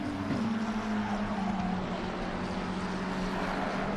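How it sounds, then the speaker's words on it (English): A K1 Esports Ford Mustang GT3 race car in a racing video game at Monza drones at a steady, distant pitch that dips as it passes, faint and smooth with no voices. "the number 112 K1 Esports Ford Mustang GT3"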